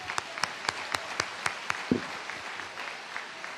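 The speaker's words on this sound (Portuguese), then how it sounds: "Palmas para a mídia." Sparse, fairly quiet handclaps from a church congregation, a scattering of individual claps rather than a full ovation, with little else around them.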